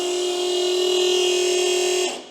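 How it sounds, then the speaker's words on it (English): An 800hp go-kart's combined oil and fuel pump runs with a steady, close electric whine and buzz, holding an even pitch for about two seconds before cutting off. "What you're hearing there is the pump, so the oil pump at the front and the fuel pump is all on the same thing."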